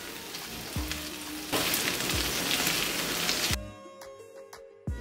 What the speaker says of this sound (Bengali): এভাবে করে প্রায় 20 মিনিটের মতো আমি কাবাবগুলোকে ভেজে নিয়েছি